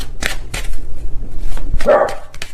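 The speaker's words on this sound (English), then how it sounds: "please ignore my dogs in the background" Several pet dogs bark indoors in bursts behind the talk, excited by something seen outside through window blinds, with a few sharp, fairly close yaps scattered across the moment.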